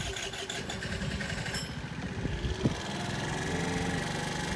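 A Tianying TY50QT-K scooter with an automatic choke starts, then idles a little high with a steady mid-pitched engine drone. The sound is close and moderately loud, and no one speaks.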